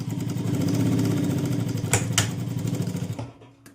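An electric sewing machine stitches a tuck in a blouse, a close, rapid, rhythmic motor hum with needle chatter that runs steadily, then stops, with a couple of brief clicks.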